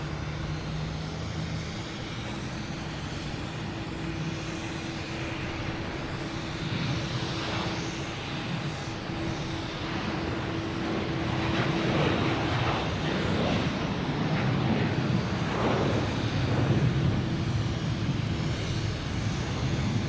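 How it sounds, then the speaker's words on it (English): An American Airlines Airbus A321 bound for LAX moves at Boston Logan Airport. Its jet engines make a steady, fairly distant roar that grows louder through the second half, over a faint low hum, with no talking. "There's American Airlines heading to LAX at A321."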